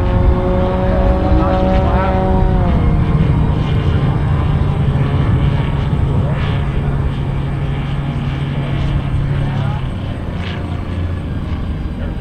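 A 36% scale RC Beechcraft T-34 Mentor model plane flies past with a steady, loud engine drone that shifts pitch as it banks into a turn, with a voice talking over it.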